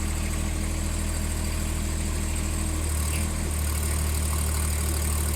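A John Deere 2025R compact tractor idles with a steady, loud, close engine rumble and constant vibration throughout, with no talking.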